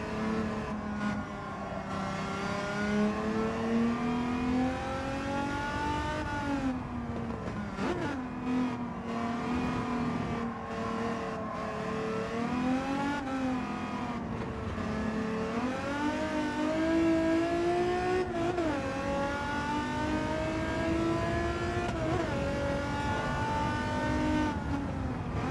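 A Mazda RX-7 races in a driving video game, its engine droning steadily throughout with repeated rises and dips in pitch as it revs through gears, loud and continuous with no voice over it.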